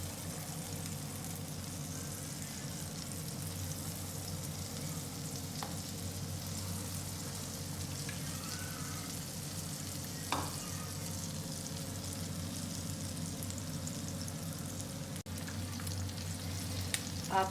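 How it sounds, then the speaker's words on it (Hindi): Beef pakora pieces dipped in batter fry in a pan over a medium flame, giving a steady, close sizzle that runs unbroken throughout, with a few faint clinks from a spatula. "हमने एक एक पीस को ऐसे डिप करके इसमें जो हमने बैटर तैयार किया है पैन में डालते जाना है"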